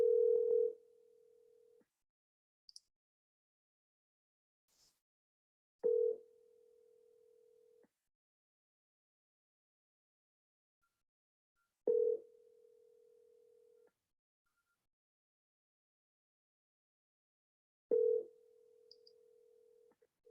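A telephone ringback tone on a call to a property repeats four times, each ring lasting about two seconds, separated by long silent gaps.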